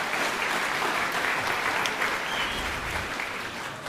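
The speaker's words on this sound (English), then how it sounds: "a round of applause for those students as well" A school spring concert audience applauds in a dense, sustained wash of clapping from many hands that fills the room evenly and fades slightly toward the end.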